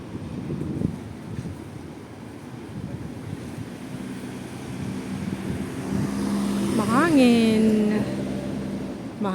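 Gusty, cold outdoor wind buffeting the microphone with a low, uneven rumble that swells over time, and a rising whine briefly cutting through near the end.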